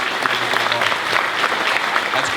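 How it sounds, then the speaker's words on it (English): Applause from the audience at a Guardians of the Galaxy convention panel at Wizard World Chicago, a steady, full crowd clapping that runs evenly throughout. "Yeah, we can applaud that."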